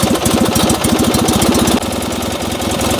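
Small rear-mounted roughly 580cc engine of an NSU Prinz 4 with a dyno start, running loud and close with a fast, uneven chugging beat that shifts slightly partway through.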